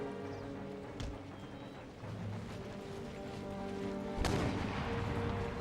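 Mortar fire in Empire: Total War during a Prussian campaign battle against the Spaniards: two sharp booming shots about three seconds apart, the second louder, over a steady bed of battlefield ambience.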